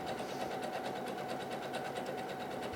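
A Husqvarna Viking Jade 35 sewing machine stitches a wide zigzag, giving a quiet, even, rapid mechanical whir with a regular stitching pulse throughout and no talk.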